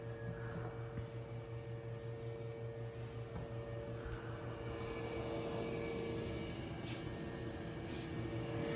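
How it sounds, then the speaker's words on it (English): A DM1100C belt sander deburrs aluminum parts with ceramic blocks, giving a steady loud mechanical drone and hum that runs unbroken throughout with little change in level. "So I'm just going to head those on through this belt sander."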